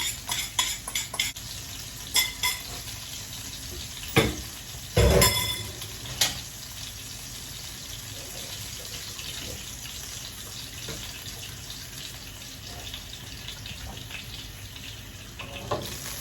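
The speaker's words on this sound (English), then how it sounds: "Guys, you want your oil to be really hot for your hash browns." Hash browns frying in really hot oil produce a continuous close sizzle, broken by occasional utensil clacks and a couple of louder knocks against the pan, with no speech.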